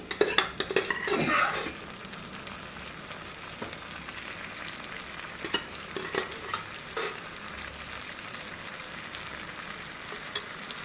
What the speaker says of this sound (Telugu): వేసేసి ఒకసారి అట్లాగా కలబెట్టేద్దాము.